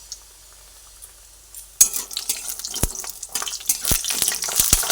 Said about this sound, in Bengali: সর্ষের তেল দিয়ে বড়িগুলোকে তেলের মধ্যে দিয়ে দিলাম বড়িগুলোকে এবার একটু লাল লাল করে ভেজে তুলে নেব